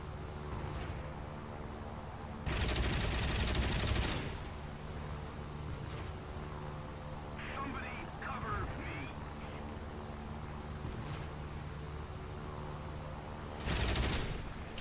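Machine gun fire from a Yak-7B fighter plane in War Thunder, two loud sustained bursts of rapid fire over a steady aircraft engine drone, with a voice speaking in between.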